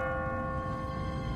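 A church bell in The Walking Dead video game hums with a sustained, ringing tone, moderately loud with a low rumble beneath and no voices.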